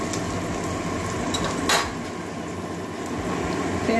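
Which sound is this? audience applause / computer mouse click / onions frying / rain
onions frying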